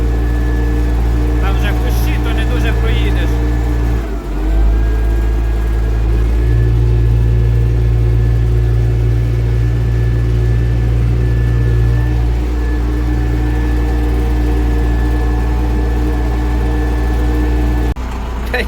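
A tractor plowing soybean stubble labours uphill with a steady, heavy low engine drone and rumble, strained and slipping, while someone talks over it in the cab.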